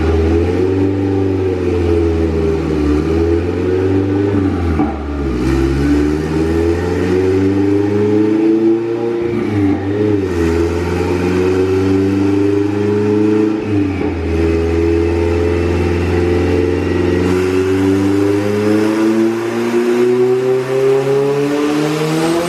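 A big-turbo, non-VTEC Honda Civic EG hatch engine makes a loud, sustained dyno pull, its pitch climbing steadily toward about 6,900 rpm with brief dips where it shifts or lifts, then rising again throughout.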